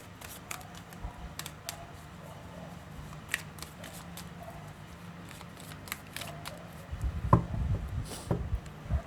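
Tarot cards being shuffled by hand, soft papery flicks and taps close up, quiet at first, then a denser, louder riffle of card noise in the last couple of seconds.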